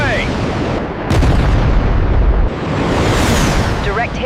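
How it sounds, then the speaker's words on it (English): A missile fired from an A-10 Warthog strikes its target in a loud, close explosion: a heavy blast near one second followed by sustained rumbling and roar, with a second surge around two and a half seconds and a voice heard over it. "Rifle! Missile away!"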